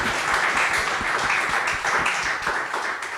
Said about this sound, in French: Je vous demande de faire un tonnerre d'applaudissements pour tout le monde, pour Alexandra, pour Bruno et pour Guillaum